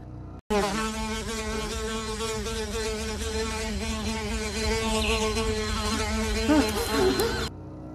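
A dense, steady buzzing of flies swarming a burned corpse fills the whole stretch, continuous and close, with slight swells in loudness toward the end.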